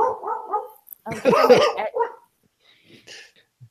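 A dog barks several times in quick bursts, with yips and softer whimpering sounds between, close and fairly loud, followed by faint sounds near the end.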